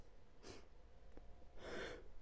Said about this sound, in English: I need a sneeze.